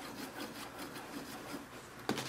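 A sharp knife is sawed back and forth across the back cover of a Samsung Galaxy S5 smartphone, making steady rhythmic rasping strokes close up that end in a sharper scrape, with no talking.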